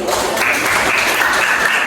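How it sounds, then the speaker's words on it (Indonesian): Brief burst of classroom applause, a dense steady patter of many hands clapping together close by, lasting under two seconds with no talk over it. "Tepuk tangan dulu."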